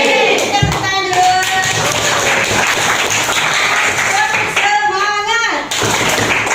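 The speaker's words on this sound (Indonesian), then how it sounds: "Kita tepuk tangan dulu." Students in a classroom clap their hands together in a dense, steady burst lasting several seconds, with children's voices calling out over the clapping throughout.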